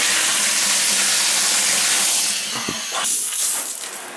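A tub shower head sprays water in a loud, close, steady hiss that shifts in tone partway through as the adjustable spray is changed.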